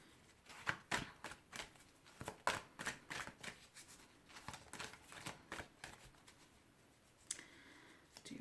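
Halloween oracle cards riffle and slap together in quick, irregular bursts, a crisp papery shuffling repeated many times at close range with no talking.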